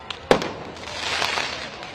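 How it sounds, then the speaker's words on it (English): Commercial-grade fireworks shot toward police officers at a freeway protest, giving one sharp loud burst followed by crackling, hissing noise over a distant crowd din. "We had individuals out there shooting commercial-grade fireworks at our officers."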